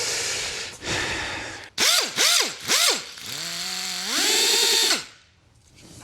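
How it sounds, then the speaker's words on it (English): A power tool fitted with an eraser wheel removes old paint protection film from an E92 M3, a loud nearby whine that revs up and down in several quick bursts, then holds a steady rising pitch before it cuts out. "So this is an eraser wheel."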